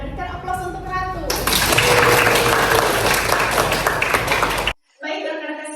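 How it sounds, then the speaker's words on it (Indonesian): Applause for a student named Ratu during a lecture, a dense burst of many hands clapping that swells quickly, holds steady for a few seconds, then cuts off abruptly as a voice resumes speaking. "Berikan aplaus untuk Ratu."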